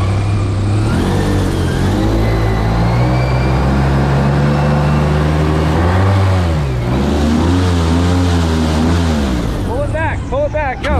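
A car engine revs and whirs, rising and falling steadily as the vehicle drives off a hill at a catfish gigging outing, loud and close, with a voice calling out near the end.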